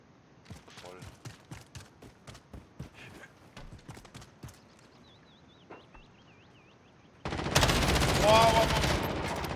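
Call of Duty gunfire cracks in a rapid series of sharp shots, followed by a sudden loud burst of noise near the end.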